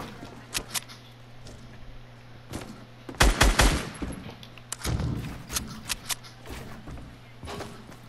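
Tommy gun fire in the Fortnite video game, with bursts of rapid shots clustered between sparse thuds and steps, loud and close against a steady game background hum.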